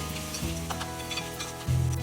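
Capsicum and tomato sauté in a hot pan, a soft continuous sizzle with a faint stirring scrape and a low steady hum behind it.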